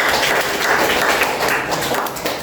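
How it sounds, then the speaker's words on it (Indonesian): A crowd applauds steadily for a couple of seconds at a school jamboree event, dense clapping at close range with no talking. "Tepuk tangan dulu untuk Mama Nadine."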